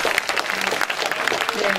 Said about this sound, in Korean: 다시 한번 큰 박수 한번 부탁드릴까요?